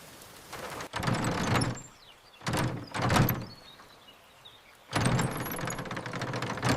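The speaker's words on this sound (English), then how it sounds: "Something's blocking the door." A door pushed against an obstruction inside a flooded shed, giving several rattling thumps and scraping bursts in uneven clusters with brief quiet gaps, close and fairly loud.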